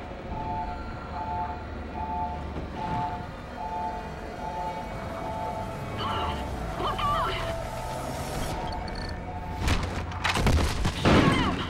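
Gunfire from the 2013 game Call of Duty: Ghosts during an enemy assault on Odin Control, a continuous rumbling battle bed that builds into heavier bursts of shots and explosions near the end, with voices shouting over it.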